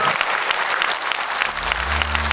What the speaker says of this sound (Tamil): ஒரு பலத்தை கைத்தட்டு கொடுத்து அந்த பிள்ளைக்கு